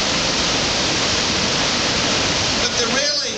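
Rushing river water on a white water rafting course, a dense, steady roar of churning rapids, loud and close, continuing unbroken throughout.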